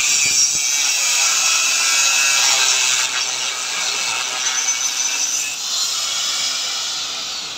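An angle grinder with a cutting disc runs steadily, a loud, continuous high whine and grinding rasp lasting the whole stretch, held one-handed, with a slight dip in intensity partway through and no talk.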